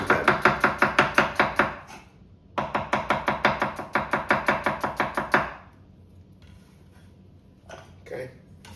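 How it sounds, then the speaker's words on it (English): A knife slices a peeled onion thinly on a board, a rapid, even run of crisp close chopping strokes, a brief pause, a second run, then quiet with a few faint handling noises. "you let your knife on this side just follow the contour of the onion"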